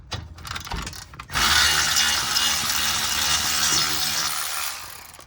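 A ratchet loosens the rear brake caliper bolt on a 2019 Mercedes GLC300, with a few clicks and then a continuous, fast, loud buzzing ratchet run lasting several seconds, close and without speech.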